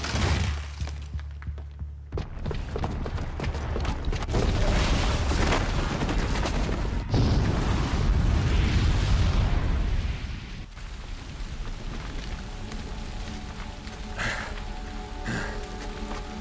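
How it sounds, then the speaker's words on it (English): A booby-trapped bomb going off in Horizon Zero Dawn, heard as a sustained, loud crackling roar of blast and falling debris that runs for several seconds, then dies down into a lower rumble with scattered bright clatter. "the booby trap on the bomb downstairs is gonna get set off"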